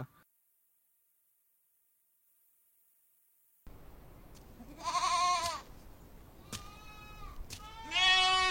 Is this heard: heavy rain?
no